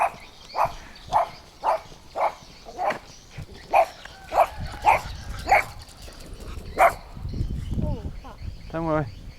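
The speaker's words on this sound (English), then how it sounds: "here come the dogs" Stray dogs bark repeatedly at a steady rhythm, sharp and fairly close, in a village on a mountain in Phatthalung, Thailand, with a low rumble and a voice near the end.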